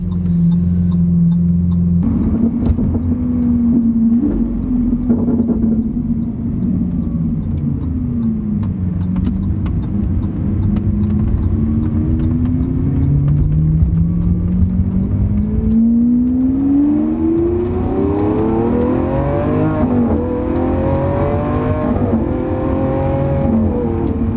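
A loud Lamborghini Aventador SV engine revs and roars continuously, its exhaust note rising and falling through gear changes, with a sharp climbing pitch near the end.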